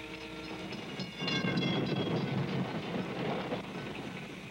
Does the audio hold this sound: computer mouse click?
no